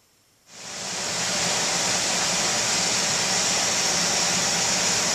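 A shop heater burning waste oil fires up after a brief quiet moment, then settles into a steady, loud, broadband roar that holds unchanged to the end.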